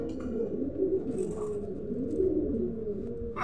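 Red Lahori pigeons, a breeding pair, give a low, continuous throaty cooing up close, steady and murmuring throughout.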